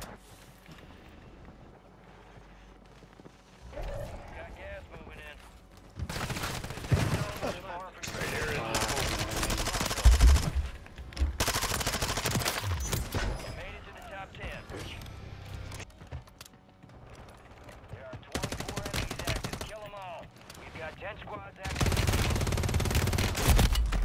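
Gunfire in the Rebirth Island map of a shooter game: scattered bursts of automatic fire, some close and loud, others fainter, with players talking between shots.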